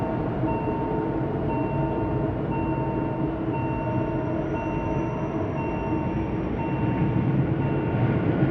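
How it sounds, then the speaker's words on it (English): The Bernina Express train runs along the road through the village of Le Prese in Switzerland, a steady, close rolling rumble of rail cars with a faint tonal whine throughout. "the train takes to the correct side of the road through Le Prese"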